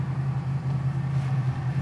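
A 1968 Mustang GT/CS restomod V8 idling steadily up close, a deep low rumble holding even throughout with no voices over it.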